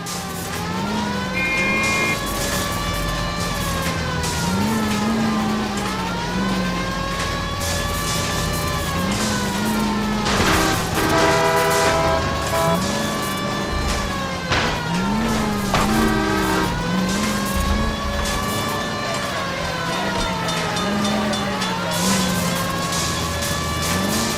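In L.A. Noire, a car chases a runaway streetcar, with a wailing police siren rising and falling over a revving engine and rumbling traffic, plus clanking metallic hits midway.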